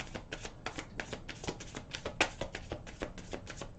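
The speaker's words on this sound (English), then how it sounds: "One more shuffle here for Geminis, and that one flipped over." A deck of tarot cards being shuffled close up, a rapid run of soft riffling flutters and taps in quick uneven rhythm, quiet and alone with one sharper snap midway.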